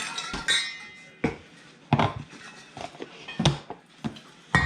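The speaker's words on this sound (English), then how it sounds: "Mix up your dry ingredients really quick." Quick utensil-on-bowl clinks and scrapes in irregular bursts while dry ingredients such as baking powder and Himalayan salt are mixed in a kitchen bowl for South Texas style fajitas, close and fairly loud, with no talking.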